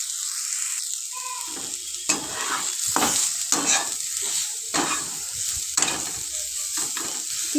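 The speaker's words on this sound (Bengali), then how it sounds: "এবার সামান্য একটু নুন আর হলুদ দিয়ে খুন্তির সাহায্যে ভালো করে নেড়ে নেব" A spatula stirs chopped ginger and garlic with salt and turmeric frying in a pan, repeated scraping strokes over a constant bright sizzle, close and fairly loud, with no voices.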